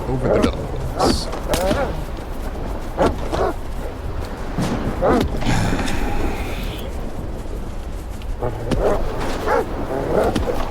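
In STALKER 2: Heart of Chornobyl, a pack of hostile dogs barks and yelps in scattered bursts amid gunfire, while a player speaks throughout.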